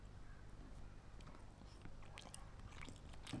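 Close, faint crunching and biting of a white egg at a homemade breakfast, with irregular small chewing clicks over a low steady background hum.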